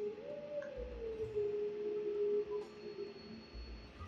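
A wolf in Zelda Twilight Princess howls a sustained, wavering melodic note that holds steady and then slowly fades, over a quiet game ambience.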